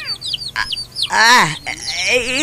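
Chickens in a comedy drama scene give loud, close clucks and squawks in quick uneven bursts, with a few higher chirps between them.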